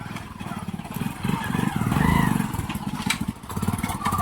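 A motorcycle engine putters and swells as it draws nearer, growing louder at its peak before easing slightly, close by.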